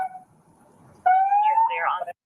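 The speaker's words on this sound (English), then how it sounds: "Does your siren work?" A brief electronic police siren chirp rises sharply and warbles for about a second, loud and close, after a short stretch of quieter sound.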